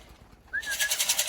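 A short call from a small pigeon rises briefly over quiet background, followed by a rapid, pulsing run of soft repeated cooing notes, close by with no talking.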